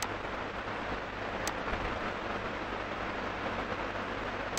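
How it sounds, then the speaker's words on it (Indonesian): Rain falls steadily outdoors, a constant, even wash of hiss that fills the whole moment with no gaps and no voices. "di sini hujan guys ya, jadi mohon maaf"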